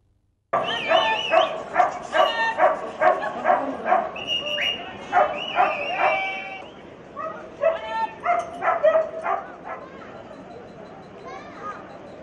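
Many dogs at an all-India dog show in Salem bark, yip and whimper in repeated bursts, close and loud, with a busy indoor crowd murmuring underneath.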